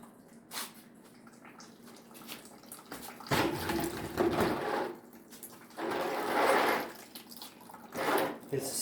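Water drains out of a boiler's domestic hot water coil, a splashing, gurgling flow that surges in a few louder bursts between quieter trickling stretches, heard close by.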